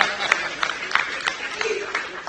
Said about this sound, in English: I think this one deserves another round of applause